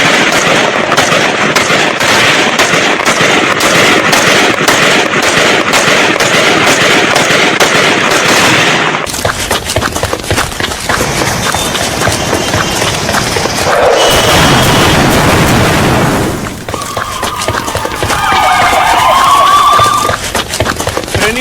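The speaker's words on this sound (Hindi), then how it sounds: "उसके बाद ग्रेनेड अटैक। सुनिए।" Grenade attack on a Pakistani police training camp after an explosives-laden vehicle rammed it: loud, continuous bursts of gunfire and blasts, rapid and dense, dropping to distant shots.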